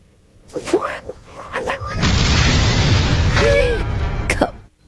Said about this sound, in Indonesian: Ternyata Pedro tak hanya mengancam, tapi serius meledakkan semua peledaknya itu.